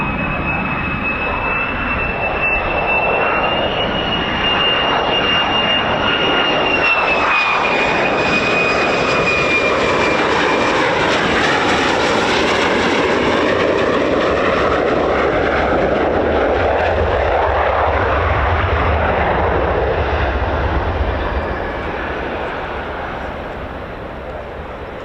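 Two military jets, F-15s or F-35s of the 48th Fighter Wing, arrive at RAF Lakenheath with a loud rising whine and heavy roar that peaks, sweeps past and slowly fades, close and dominant with faint voices beneath.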